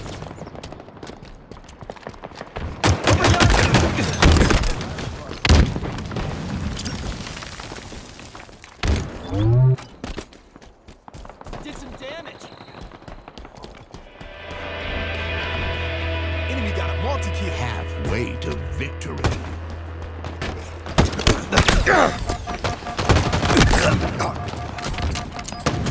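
Video game gunfire from Halo Infinite: repeated loud bursts of automatic fire and thudding impacts in a busy battle mix, broken by short lulls and a steady droning stretch, with voices calling out over the action.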